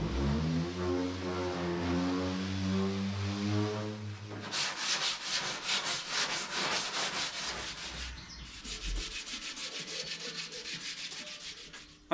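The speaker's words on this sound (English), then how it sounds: "But for now, let's start with sanding." A tonal hum gives way to rhythmic, raspy back-and-forth sanding strokes on a homebuilt boat hull before epoxy, close and steady, with a brief pause before the scraping resumes.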